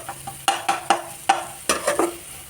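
Vegetables frying in a little oil, a light sizzle broken by a quick run of spatula scrapes and knocks against the pan, close and fairly loud.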